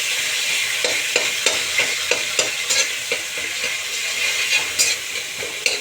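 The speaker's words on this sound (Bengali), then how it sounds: "কালো জিরে দিলাম আর টমেটোটা সিদ্ধ করে নিয়েছি।" Black cumin (kalo jeere) tempering sizzles in hot oil in a pan, a continuous close hiss broken by regular stirring scrapes roughly every half second, no voices.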